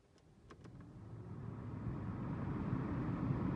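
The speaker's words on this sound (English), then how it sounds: "This was a successful job for me, as you can hear when I turn on the blower motor." A few faint clicks are followed by the cabin fan blower motor of a Saab 9-3 starting up, its airy whoosh rising gradually into a steady hum.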